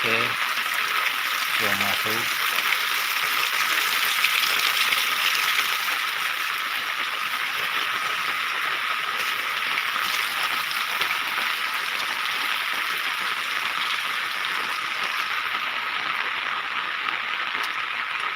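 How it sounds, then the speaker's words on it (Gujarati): Heavy rain pours down on farm fields in Gujarat, a dense, constant hiss that stays loud and unbroken from start to finish, with no voices. "એટલો બધો વરસાદ પડે"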